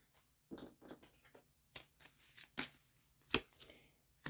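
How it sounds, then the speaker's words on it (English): Tarot cards are shuffled by hand close up, producing a string of quick, soft riffles and sharper slaps at an irregular rhythm, with no talking. "Let me give it one last shuffle."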